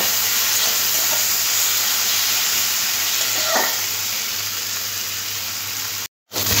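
Potatoes frying in oil with salt and turmeric until soft, a steady loud sizzle and hiss close by with a brief stir scrape near the middle and a short cut near the end, no talking.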